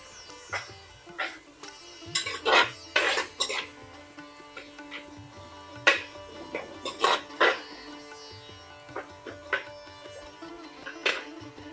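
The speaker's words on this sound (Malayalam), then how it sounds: "ഇതിലോട്ട് നമുക്ക് ഈ മുരിങ്ങക്കയില്ലേ അതും ഇട്ട് കൊടുക്കാം" Drumstick (moringa) pieces are dropped into a pot of prawn curry and stirred. Irregular clinks, scrapes and taps come in scattered bursts, close and moderately loud, separated by quiet gaps.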